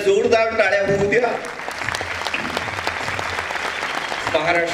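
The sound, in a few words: audience applause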